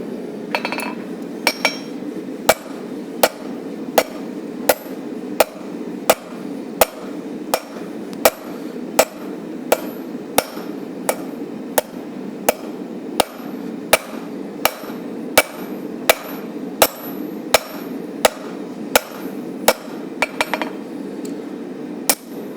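Steady hammer blows ring out on hot steel as a railroad spike is drawn out into a knife blade, a regular rhythm of sharp metallic strikes, roughly one a second, close and clear.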